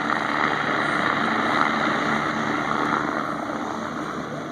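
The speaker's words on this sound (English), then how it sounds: "The Red Bull helicopter, Mr. Chuck Aaron." The Red Bull helicopter at the Oshkosh 2011 airshow makes a steady, loud rotor and engine roar that stays constant throughout, with no voices.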